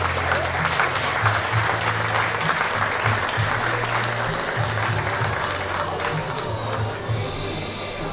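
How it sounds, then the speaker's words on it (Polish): Steady, full applause from an audience at a 2019 sports gala ceremony, sustained clapping that stays loud throughout with a low hum of crowd noise beneath it. "Jeszcze raz gorące brawa."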